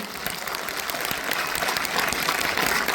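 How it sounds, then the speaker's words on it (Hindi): A crowd at a Sangam 2024 company celebration breaks into loud, sustained applause, dense clapping that builds slightly and continues throughout without speech. "एक बार जोरदार ताली हो जाए इसके लिए"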